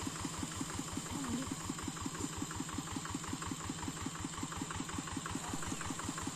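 A hand tractor engine idles steadily on a steep hillside before descending, its rapid, even chugging pulses close and loud with a slight knocking edge, continuous and alone.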